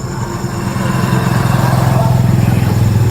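A motorcycle rides close past a house, its engine growl swelling from moderate to loud with a steady pulsing throb, alone with no talk.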